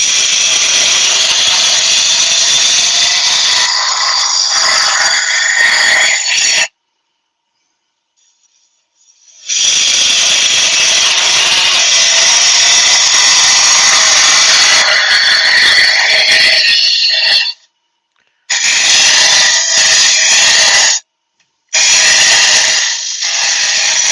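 Wood lathe hollowing a four-sided wooden vase, loud close tool noise with a high whine and occasional squeal, cut off by several abrupt silences as the cutting stops and starts.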